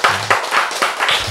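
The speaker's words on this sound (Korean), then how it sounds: "박수 한번 치세요." An audience claps at a church sermon in a series of loud, fairly close bursts of claps with short gaps between them, mixed with a few murmuring voices.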